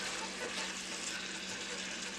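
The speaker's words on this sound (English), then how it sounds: "Once that meat start cooking up, sizzling up, hot again" Beef stew meat sizzling in a hot pot, a steady dense hiss of frying that holds evenly for a couple of seconds, fairly close and unbroken, with no voices.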